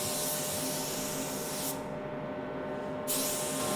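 A spray gun laying sealer onto a car body, a close, steady hiss that drops off briefly midway as the trigger eases, then resumes at full strength.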